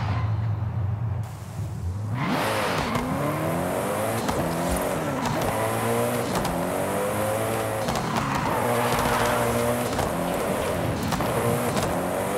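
Race cars drifting in a video game featuring Porsche, Koenigsegg and Ford, with continuous engine roar and sustained tire squeal that swells and shifts pitch as the cars slide, loud and close throughout.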